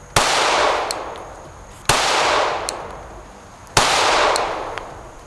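Three sharp pistol shots from a handgun fitted with a Gideon Optics Alpha red dot, evenly spaced about two seconds apart, each a loud crack with a ringing decay, heard outdoors with no talking.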